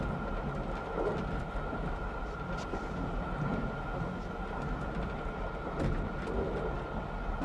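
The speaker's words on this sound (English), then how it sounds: "Oh, please don't get off the train, Terry." Steady rumble and clatter of a train rolling on rails, heard from inside a carriage on what is presented as the Orient Express, continuous throughout with a faint steady tone above the rumble.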